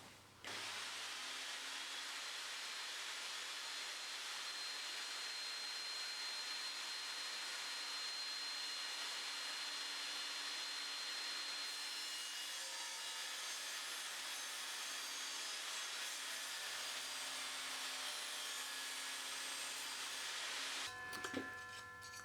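An Evolution Fury 5-S table saw makes an angled mitre cut, a steady loud motor whine with broadband cutting noise held for about twenty seconds before the blade winds down.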